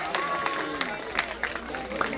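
Audience applause at a Gujarati temple flag festival, scattered uneven claps from a moderate crowd heard at middle distance, with a voice talking over the clapping.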